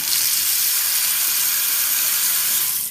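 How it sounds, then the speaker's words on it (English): Cold water runs from a faucet under a sink being checked after a leaky supply line repair, a loud, steady hiss of flow close by with no voices. "And so we turn on the cold water."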